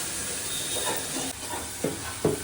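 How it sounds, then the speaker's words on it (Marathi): Onion and tomato sautéing in oil in a pan, a steady close hiss of sizzling with a few soft stirring scrapes near the end. "आता त्याच्यामध्ये मी टॅमॅटो टाकलेला आहे आणि ते पण असं तेल सुटेपर्यंत मस्त असं परतवून घेणार आहे"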